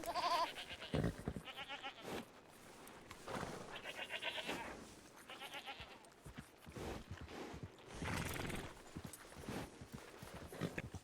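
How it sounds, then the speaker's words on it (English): A male white goat bleats repeatedly at a livestock auction, several loud, wavering calls close by, with faint background noise of the sale barn between them. "we got a male goat here"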